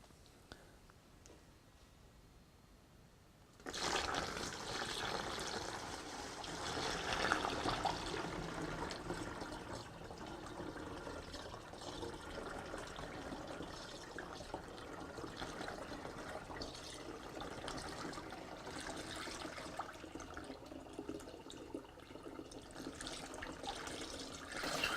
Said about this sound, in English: now what I'm going to do is just slowly pour the resin off into the container